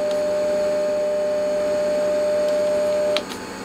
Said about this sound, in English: I'm going to record a 600Hz and 400Hz tone.